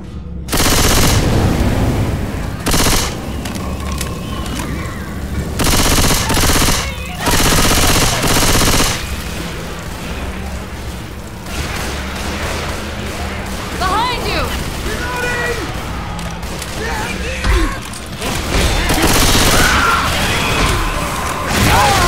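Rapid bursts of rifle fire from the video game Left 4 Dead, loud clattering volleys coming in several clusters amid game noise and crashes, with people talking over the action.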